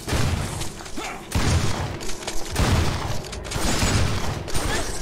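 Rapid gunfire bursts from the video game Contagio, dense and loud with heavy low thumps, breaking into several volleys across the stretch with brief gaps between them.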